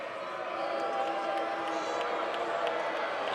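A dense, steady roar of a large indoor crowd at a Cincinnati vs Tarleton State men's college basketball game, loud and sustained throughout, with cheering mixed into the noise.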